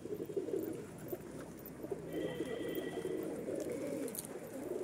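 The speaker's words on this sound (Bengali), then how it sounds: "ওইখানে ওই কবুতরটা ওরম ডানা মেলে কি করছে" Pigeons coo softly and steadily on a rooftop pigeon farm, a low rolling murmur of several birds with faint background noise and no talk.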